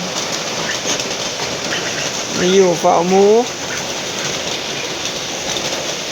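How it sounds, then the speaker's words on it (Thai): Heavy night rain pours steadily outside a pig pen, a dense continuous hiss that fills the whole clip, with someone talking briefly over it partway through. "ฝนตกแฮง"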